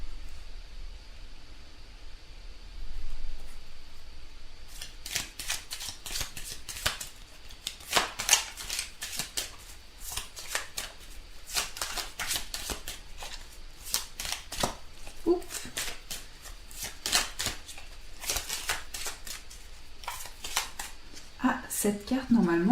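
Oracle cards are shuffled by hand before one is drawn, producing a long run of rapid, crisp riffling and slapping bursts that come in uneven clusters, close and clear, with someone talking over part of it.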